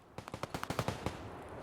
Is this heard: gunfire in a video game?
yes